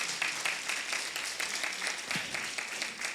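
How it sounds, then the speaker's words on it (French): A church congregation applauds the families during a worship service. The clapping is dense and steady, from many hands, and fills the whole three seconds at an even level. "On applaudit les familles et on bénit Dieu."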